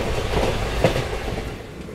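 Bengaluru–Mumbai special train rolling along the rails, a steady broadband rumble with faint clickety-clack from the wheels and one brief sharper clank near the middle, close and continuous with no voices.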